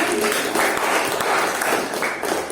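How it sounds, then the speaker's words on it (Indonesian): A classroom gives a short round of applause for a student group, steady dense clapping from many hands lasting a couple of seconds. "Kita beri aplaus untuk kelompok 1."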